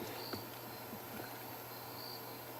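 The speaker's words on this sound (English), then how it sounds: "I love the sound of crickets." Crickets chirp in the African bush at dusk, a steady high-pitched trill with faint insect calls layered over a low background hum, quiet and continuous.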